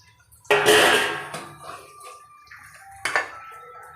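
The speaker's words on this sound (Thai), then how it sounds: "เทไก่ลงลงหม้อนะครับ" Chunks of chicken with chilies and garlic slide and splash into a metal pot for a Thai chicken and glass noodle curry, with a loud clattering rush, followed by a softer second pour a few seconds later.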